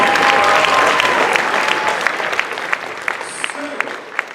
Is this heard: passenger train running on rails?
no